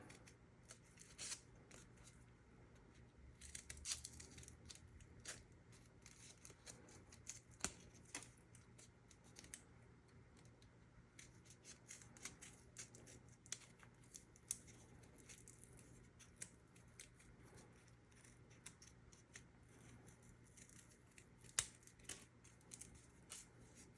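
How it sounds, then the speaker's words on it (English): Scissors snipping through folded paper to cut a snowflake pattern, a long run of small, quick, faint crisp cuts and rustles, close by with no talk. "Sometimes you have to give it just a little bit of a cut to allow it to turn."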